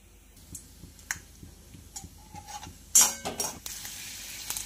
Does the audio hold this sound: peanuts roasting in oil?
yes